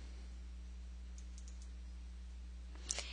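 A mouse click in forensic search software lands near the end: one crisp tick over a quiet room with a steady low electrical hum.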